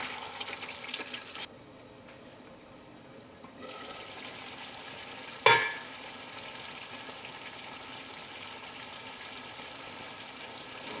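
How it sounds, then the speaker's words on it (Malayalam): Pork vindaloo curry cooking in a pan gives a steady low sizzle and bubbling, with a brief gap, then one sharp clack partway through as the curry is stirred. "നമുക്കൊന്നുകൂടി ഒന്ന് ഇളക്കിയിട്ട് കൊടുത്തിട്ട് ഒരു 20 മിനിറ്റ് കൂടി നമുക്കൊന്ന് മൂടി വെച്ചിട്ട് ഒന്നുകൂടി ഒന്ന് വേവിക്കാം"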